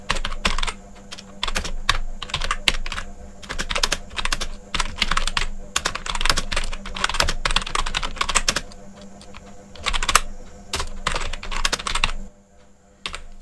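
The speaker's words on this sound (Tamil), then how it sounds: "இப்போதைக்கு நான் வந்து டைப் பண்ணியிருக்கேன்" Rapid, steady typing on a computer keyboard, close and loud, with dense bursts of key clicks broken by brief pauses and continuing throughout.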